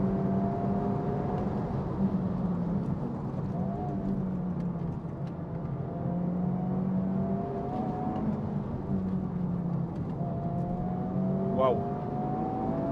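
A Toyota GR Yaris or Honda Civic Type R FL5 engine hums steadily at high rpm, pitch rising and falling through the gears, a continuous close mechanical drone with faint voices underneath.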